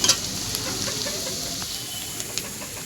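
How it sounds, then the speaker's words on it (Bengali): Onion, garlic and lentil bori fry in hot oil while greens are cooked at home, making a steady, even sizzling hiss with a few faint pops and no talking. "পেঁয়াজ, রসুন আর কিছু বড়ি দিয়েছি কলাইয়ের। ভালো করে লাল লাল করে ভেজে নেব"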